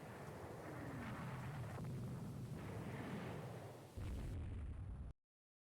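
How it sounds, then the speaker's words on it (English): Airstrike explosions in the naval strategy game Rule the Waves 3 make a sustained roar of rumbling, booming blasts that ends in a sudden cutoff. "Hopefully this last airstrike will persuade them to call off the pursuit."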